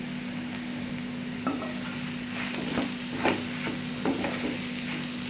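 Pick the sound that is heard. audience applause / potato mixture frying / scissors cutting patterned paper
potato mixture frying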